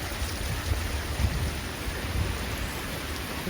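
Heavy rain pours down steadily during a severe thunderstorm, a dense continuous hiss with low rumbling underneath, close and loud throughout with no voices.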